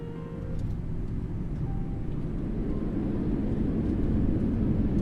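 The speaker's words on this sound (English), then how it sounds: "Love the rumbling of the flaps." A steady low rumble of the flaps on a Southwest 737-700 in X-Plane 11, a continuous airframe roar that stays even and builds slightly toward the end, with no voices.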